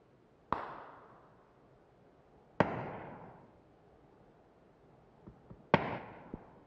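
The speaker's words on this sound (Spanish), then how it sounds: "Oigo tiros, pero no veo a nadie" Three sharp distant gunshots in a video game ring out at spaced intervals, each with a long echoing tail fading into the distance, plus a few faint clicks between them.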